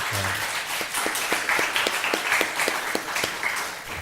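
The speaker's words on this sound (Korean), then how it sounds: "건강한 다리 주신 하나님 앞에 감사 박수 한번 치도록 하겠습니다." A church congregation claps together in thanks during a Korean sermon, producing a dense, sustained wash of hand claps with a steady rhythmic beat running through it, close and full for about four seconds.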